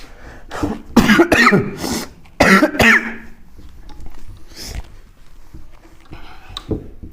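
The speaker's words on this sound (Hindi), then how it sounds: "थोड़ा खांसी हो गया है।" Someone coughing during a Hindi chemistry lesson: a burst of several loud, close coughs with throat clearing in the first three seconds, then fainter breaths and small coughs trailing off.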